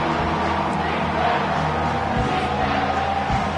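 Home crowd noise in a South Carolina vs Texas A&M college football video game on third down: a loud, steady stadium roar that swells slightly across the whole stretch, with no clear speech.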